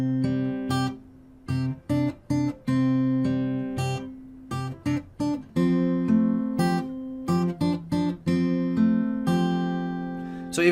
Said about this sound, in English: I'm hitting the root note with every note